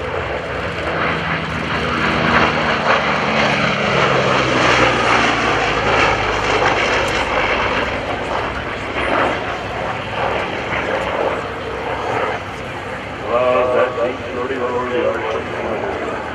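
F4U Corsair propeller warplane at a World War II air show, its loud engine drone swelling and fading as it flies past, with an announcer talking over it.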